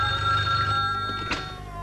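A telephone bell rings loudly and close in an old Hindi film scene, a continuous metallic trill that runs for about two seconds.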